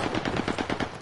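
Rapid machine gun fire in a video game, a single sustained burst of quick evenly spaced shots lasting about a second, loud and close.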